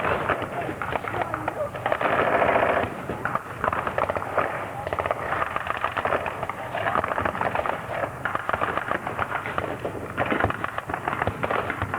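Machine gun fire from a British Bren gun and an American .30 caliber gun crackles loudly at a WW2 battle reenactment, with dense rapid bursts and distant booms while a commentator talks over the din.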